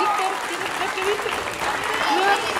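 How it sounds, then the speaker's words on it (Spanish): Audience applause at a school farewell gathering for circus students, a dense steady clapping filling the room while voices talk and call out over it. "Un fuerte aplauso"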